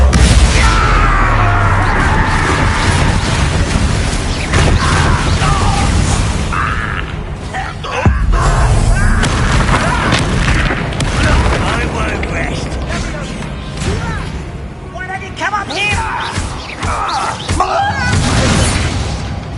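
In the Hogwarts Legacy video game, Bombarda blasting spells set off repeated booming explosions with rattling, crackling debris. Dense combat noise fills the scene, and a voice shouts spell names over it.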